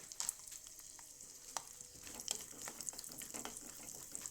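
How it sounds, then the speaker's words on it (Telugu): Almonds, cashews and pistachios fry in melted ghee, a faint, low sizzle broken by light, irregular stirring clicks and scrapes. "నెయ్యి మెల్ట్ అయిన తర్వాత బాదము, జీడిపప్పు అండ్ పిస్తా పప్పులు ఇవన్నీ బాగా ఫ్రై అయ్యేంతటికి ఫ్రై చేసుకొని"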